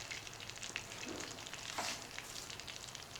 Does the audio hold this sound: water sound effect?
no